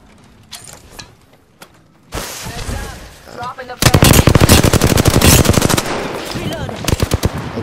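Video game gunfire erupts in a zombie shooter, starting with scattered shots and then breaking into loud sustained automatic bursts with rapid cracks, while players talk over the action.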